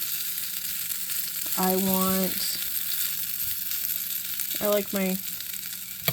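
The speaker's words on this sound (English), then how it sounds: "As you can see, I've been keeping up with this and stirring as much as needed" Potatoes fry in bacon fat in a skillet with a steady background sizzle, broken by two short scraping stirs near the middle and end, while a voice speaks briefly over it.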